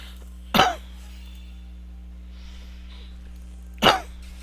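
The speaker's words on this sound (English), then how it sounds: "And I'm coughing because I have lung problems." A person with lung problems coughs twice, each a sharp, close burst separated by a few seconds of quiet room hum.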